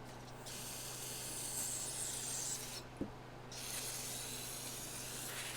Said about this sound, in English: Now I'm going to use some carb cleaner and kind of spray